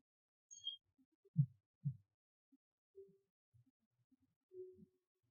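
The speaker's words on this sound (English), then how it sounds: "You can hear her heartbeat." A girl's heartbeat comes through as faint, low, muffled thumps, a close pair of beats followed by softer scattered pulses in near silence.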